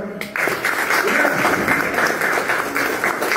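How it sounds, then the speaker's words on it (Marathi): Audience applause at a public meeting, a sustained burst of crowd clapping rising quickly and holding steady, loud and close, with a voice briefly heard underneath. "उभे राहा, पुन्हा एकदा जोरात टाळ्या वाजवा"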